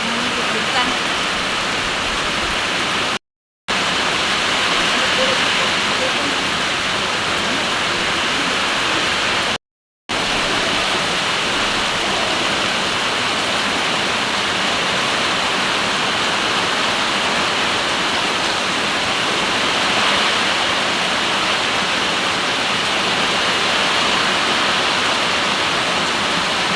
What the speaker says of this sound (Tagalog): Grabe ka kusog sa ulan.